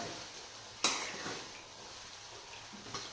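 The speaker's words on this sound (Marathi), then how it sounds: "रिंग ठेवली नाही तर कढई हलते पळते असतात" A kadhai rattles on a gas stove set without a ring: one sharp metallic clank, a fainter knock a few seconds later, and a low hiss of burner and pan between them.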